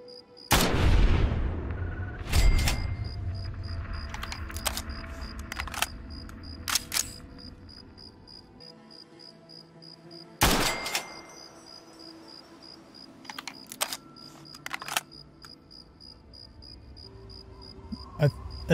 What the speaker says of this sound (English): Time for some sniper action.